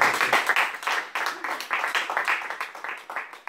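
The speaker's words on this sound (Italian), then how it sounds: "voglio veramente un applauso per corale per loro" Bursts of applause from an audience at a presentation event in a Rome ministry library, uneven and fairly close, rising and falling in short waves.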